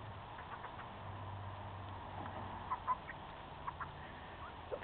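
Faint chickens cluck now and then over a low steady engine-like hum, distant and quiet with a few short sharper calls.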